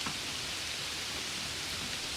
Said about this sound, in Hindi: बारिश लगातार तेज होती जा रही थी। हवा भी बहुत तेज चल रही थी।